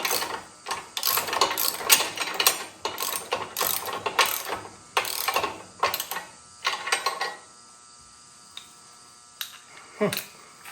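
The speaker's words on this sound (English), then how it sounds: "These are very well locking wrenches." A ratcheting locking wrench tightening hardware while fitting a chainsaw carrier mount, with rapid bursts of mechanical clicking in uneven runs that pause and then return in a few short strokes, close and fairly loud.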